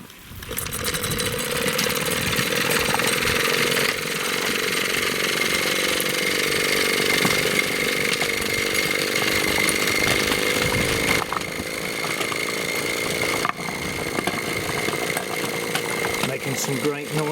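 A Bassett-Lowke live steam traction engine, a barn find now under steam, runs continuously over loose paving slabs with a steady rattling, chuffing mechanical noise, close and fairly loud throughout.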